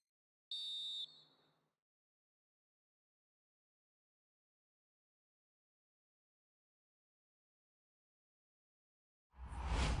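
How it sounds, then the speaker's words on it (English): A referee's final whistle in the EA FC 24 football game, one sharp high blast of about half a second with a short tail, followed by long silence and then a rising burst of noise at the very end. "that's it, the final whistle"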